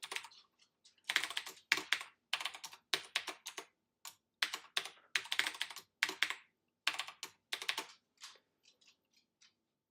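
A password is typed on a computer keyboard in quick bursts of close, crisp keystrokes separated by short pauses, with no talking.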